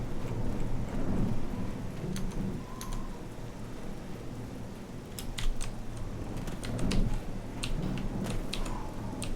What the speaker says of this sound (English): Or maybe that's just thunder.